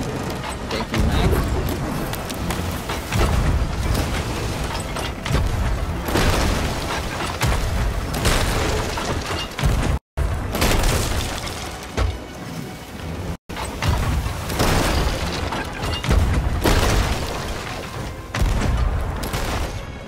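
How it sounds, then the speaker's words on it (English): Loud, dense bursts of explosions and booming pops from a chicken firework going off in the pirate video game Sea of Thieves, running almost continuously with two brief cut-outs. "Hopefully this guy responds in time to hear this chicken firework go off."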